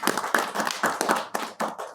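Audience clapping at a kavi sammelan poetry gathering: brisk, uneven bursts of nearby hand claps from a smallish group, with no one talking over them.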